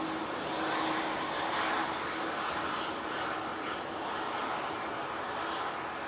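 An Emirates A380 airliner's engines drone steadily on departure, a faint, even roar heard from on board with no voices.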